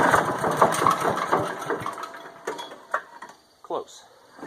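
A DR chipper/shredder's small gas engine is recoil-started with full choke and half throttle. It sputters and churns unevenly for a few seconds, then falters into separate coughs and rattles.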